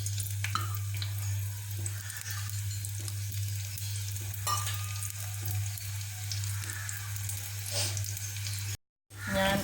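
Sliced onions fry in hot oil in a pan for a Kerala-style beef roast, giving a loud, continuous sizzle with occasional stirring scrapes over a low hum. The sound cuts off briefly near the end, then resumes.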